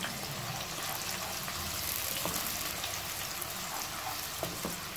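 Onions fry in oil in a pan for chicken karahi, a soft, even hiss of sizzling with faint scattered crackles throughout, fairly quiet and close.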